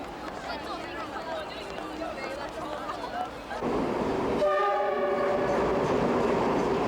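A train bound for Xinxiang, China, rumbles steadily along, and a loud, sustained horn-like tone rises near the end, with faint voices in the background.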